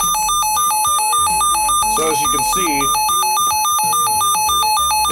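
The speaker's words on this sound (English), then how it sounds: "that's the Siren on the Sangean SG112" A Sangean SG112 radio in alert mode sounds its siren, a loud electronic tone stepping up and down in a steady repeating square-wave pattern, with a brief burst of clutter midway and a few spoken words near the end.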